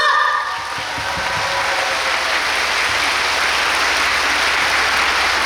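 Audience applause at a curtain-call stage greeting for the Korean musical Gwanghwamun Yeonga, a dense, steady sustained clapping from a full house, loud and continuous after a brief voice at the start.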